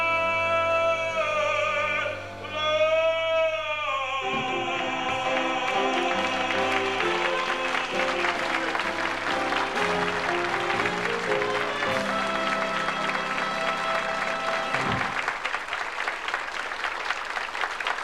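Audience applause for a stage performer builds over a fading musical tone, then steady clapping continues for many seconds before cutting off near the end.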